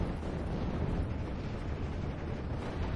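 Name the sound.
artillery barrage exploding in Steel Division 44 video game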